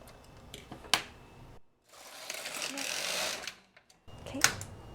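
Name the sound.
knitting machine carriage knitting a row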